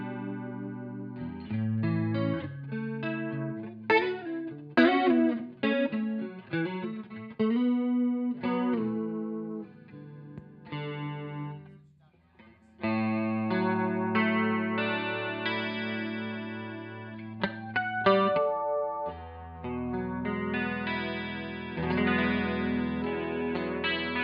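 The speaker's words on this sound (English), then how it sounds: "But here, that's definitely chorusy." An electric guitar played through the chorus effect of a JAM custom multi-pedal rings out in shimmering, wavering chords and single notes, with a brief dip in the middle and no talking.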